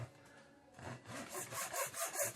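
Wood cut by hand with a saw while making a homemade wood-effect roller, heard as rhythmic back-and-forth rasping strokes that start soft and become louder and more regular toward the end, with no talking.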